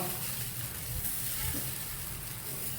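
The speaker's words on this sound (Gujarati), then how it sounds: "ખમણ વઘારાય છે આ." A steady, loud sizzle of khaman being tempered in hot oil, continuous throughout with no talking.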